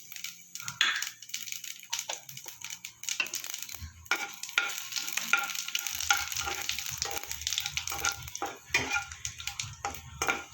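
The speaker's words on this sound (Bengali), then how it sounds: "ফোড়নটা আমার ভাজা হয়ে গেছে" Whole spices and a pinch of asafoetida temper in hot oil in a wok, crackling and sizzling with the light scrape of stirring. The frying is close and fairly quiet, with no talk.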